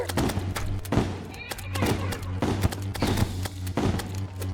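A shotgun fires in Terraria Expert mode: a steady string of sharp, punchy blasts at a quick, even pace over a constant low electronic hum, with excited talking going on throughout.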